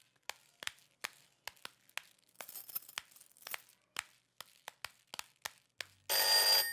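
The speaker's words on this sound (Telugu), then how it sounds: "ఫోన్ రింగ్ అవుతూనే ఉంది" A telephone rings in a hotel room in a Telugu drama, heard as a run of sharp, irregular clicking strikes that end in a brief louder burst.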